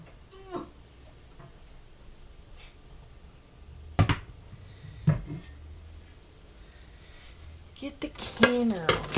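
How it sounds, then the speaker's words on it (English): A metal canner clanks onto a stovetop while preparing to can seasoned collard greens: a few sharp metallic knocks and scrapes spaced apart, with a louder clatter of pot against burner near the end, close by in a quiet kitchen. "put my canner on the stove"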